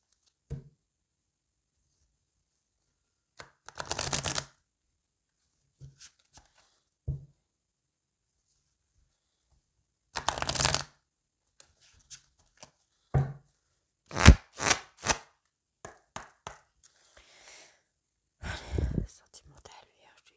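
Lady Lenormand oracle cards are shuffled and handled in short scattered bursts of riffling and soft card slaps, separated by silent gaps, with faint whispering between them.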